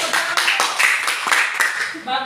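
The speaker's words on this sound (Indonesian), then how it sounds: "Oke, berikan tepuk tangan." Students in a junior high classroom clapping together, a rapid dense patter of many hands close by, with a voice speaking as the applause fades.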